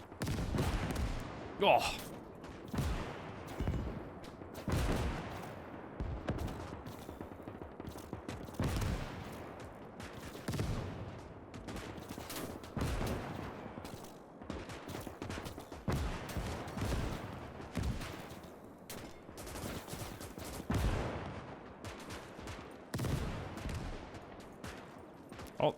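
Rifle fire and German artillery in a large World War I-style trench battle in Gates of Hell, with dense irregular shots and heavy booms throughout, some near and loud, others distant, and a man's occasional brief exclamation.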